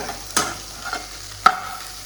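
A spatula stirs noodles with masala in a pan, giving two sharp scrapes about a second apart over a faint, steady background hum. No one speaks.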